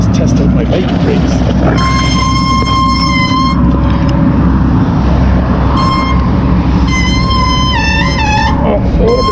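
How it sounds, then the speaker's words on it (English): Bicycle brakes squeal during a downhill test ride on a rural road, giving several loud, high, tonal shrieks in bursts over constant rumbling road and wind noise, with a voice speaking underneath. "Let's test out my bike brakes."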